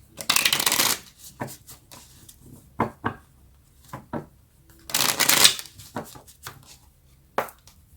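Tarot cards being shuffled for a reading, with two long riffling bursts and many short card slaps and taps in between, close and clear, no talk.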